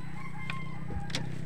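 Faint clucks and short calls from chickens rise over a low steady background hum, a couple of brief bursts close together.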